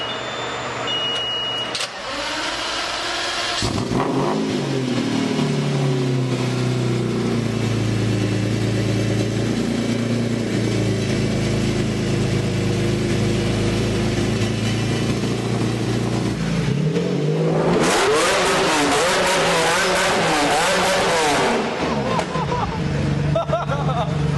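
A sports car engine cranks and catches, then idles with a deep rumble and revs loudly and repeatedly, close by, with people talking in the background.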